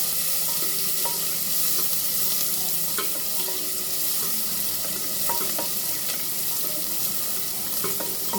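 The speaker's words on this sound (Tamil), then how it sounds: "ஒரு முப்பது செகண்ட் வதக்கினா போதும்" Carrots, beans, peas and potatoes toss in a pan with lightly sautéed onion for wheat rava kichadi, giving a steady close sizzle with repeated scraping stir strokes and no talking.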